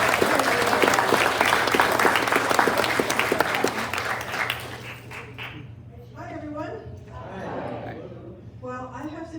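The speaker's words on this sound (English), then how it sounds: "So please give me a round of applause for her." Audience applause at a community event in Punta Gorda, welcoming the city's mayor: dense, loud clapping for about five seconds, then fading out under a speaker's voice.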